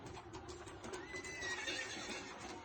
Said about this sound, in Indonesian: Dan raja menyuruh panglima-panglima perang dan orang-orang berkuda